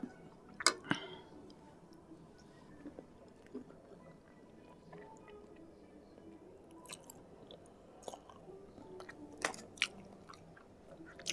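Someone chews a large piece of pork leg, with sparse wet crunches and bites scattered over a quiet background, close and fairly soft.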